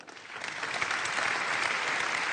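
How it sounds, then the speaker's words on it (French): An audience at a national awards ceremony applauds two former prize winners who are present, a dense, steady wash of clapping that swells slightly and holds at full strength throughout. "qu'on peut applaudir évidemment"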